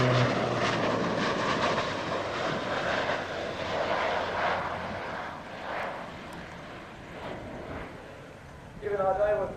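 A Beech 1900D turboprop at an airshow passes at maximum speed, a broad engine and propeller roar that swells and then fades into the distance, with a voice over it.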